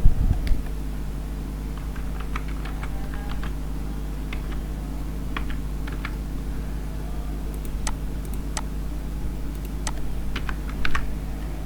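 Keys tapped on a computer keyboard while a line of Python code is entered, sparse irregular clicks in short bursts over a steady low hum, close and fairly quiet, no voices.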